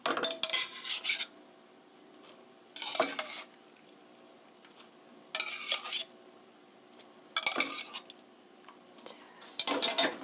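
Cooked spaghetti lifted into a pan of fried cabbage over medium heat, five bright bursts of clattering and scraping spaced a few seconds apart, each followed by a quiet stretch.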